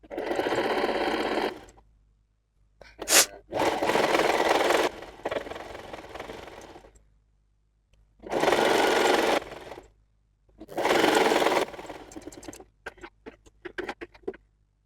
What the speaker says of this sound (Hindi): और यहाँ पे सिलाई लगा लेंगे।